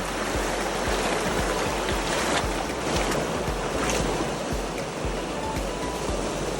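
Cold river water churning and splashing around legs as someone wades across a channel on the Howse River floodplain, a steady broadband rush close by with no talking.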